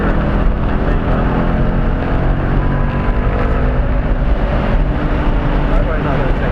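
A race car engine at speed on the Road America track, a loud, steady broadband roar that never lets up for the whole stretch, with a coach's voice talking over it.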